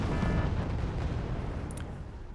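Bombing explosions in Wargame: Red Dragon, a continuous low rumbling boom that slowly fades over a couple of seconds.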